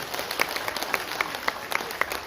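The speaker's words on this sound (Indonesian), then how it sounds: "Tepuk tangan." Short burst of audience clapping at an Indonesian motivational talk, a steady patter of hands with a few sharper claps standing out, moderately loud and with no talk over it.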